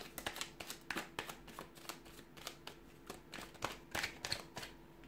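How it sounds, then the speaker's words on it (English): A deck of tarot cards is shuffled by hand in a quiet room, giving a rapid series of crisp riffling flicks and soft slaps in an irregular rhythm, close and clear with no talking. "We'll give the cards a shuffle"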